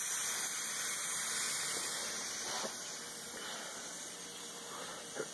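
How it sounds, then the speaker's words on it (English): Steam vents from a pressure cooker while rice cooks, producing a steady, faint, continuous hiss that persists throughout with little change. "the steam is now evacuating the pressure cooker, as you can see."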